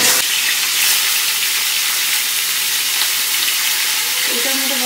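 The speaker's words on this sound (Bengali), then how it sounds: "এই দেখো তেল কই বানানোর তেলটা গরম হয়ে গেছে, এবার মাছগুলো সব ভাজতে দিয়ে দেবো" Fish frying in hot mustard oil in a wok gives a loud, steady hiss and crackle that fills the whole stretch, with a faint tonal clink near the end.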